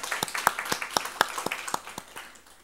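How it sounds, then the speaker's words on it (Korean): Rhythmic unison clapping from a congregation during a Sunday church worship service, sharp evenly spaced claps about four per second, moderately quiet with a faint room wash behind. "우리 부활하신 주님께 영광의 박수 한번 돌리겠습니다"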